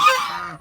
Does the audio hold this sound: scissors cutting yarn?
no